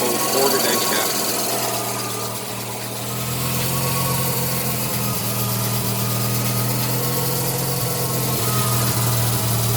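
A Mazda RX-7 FC with a naturally aspirated, street-ported rotary engine, stripped down to its base parts, idles steadily and loudly with a buzzing, fluttering drone that never lets up.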